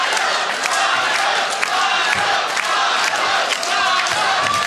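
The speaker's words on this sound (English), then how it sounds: "this Oak Grove crowd is really falling in love with Alonzo in this match" A loud Oak Grove crowd roars throughout an NWA Powerrr wrestling match, a sustained close wall of cheering and yelling with small surges.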